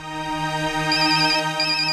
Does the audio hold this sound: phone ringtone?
yes